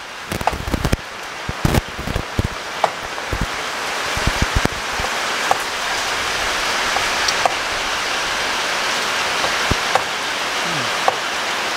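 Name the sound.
rain falling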